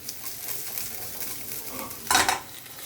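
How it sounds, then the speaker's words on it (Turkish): Zucchini and lemon peel sizzle steadily in olive oil in a pan, a continuous close crackle with a brief louder burst of hissing near the end and no talk. "Dünyada en sevdiğim şey şu cızırdama sesi."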